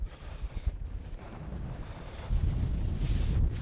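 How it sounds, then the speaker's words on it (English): Wind gusting across the open Goswick golf links, a steady broadband rush that builds and grows louder in the second half, with no talking. "Wind is right to left."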